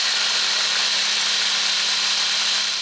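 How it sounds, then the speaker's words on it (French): A blender whirs steadily as it mixes vegan ricotta ingredients with a little garlic powder, a loud, even motor drone that holds alone throughout. "Et ensuite on va mixer tout ça."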